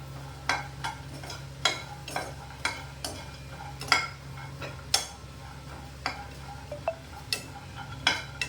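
Spices dry-roasting in a pan without oil, with a steady rhythm of crisp metallic spatula scrapes and taps about once a second over a low sizzle and a faint background hum.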